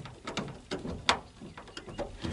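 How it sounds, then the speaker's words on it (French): Screws on the rear window frame of a Citroën Traction 11B are tightened with a series of short ratcheting clicks in an uneven rhythm, close and moderately loud. "il me restera plus qu'à serrer les vis"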